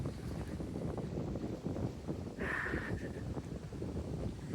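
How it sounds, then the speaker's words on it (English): Wind blows outdoors, a steady rumbling gust buffeting the microphone, loud and continuous, with a brief brighter rush partway through and no voices. "It's windy"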